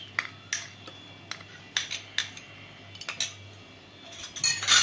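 A spoon clinks against a bowl while besan dhokla batter is mixed with green chili paste, lemon juice and ginger paste; a series of sharp, close metallic taps recurs irregularly, growing busier toward the end, with no talking.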